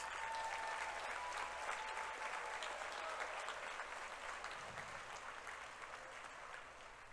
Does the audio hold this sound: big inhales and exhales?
no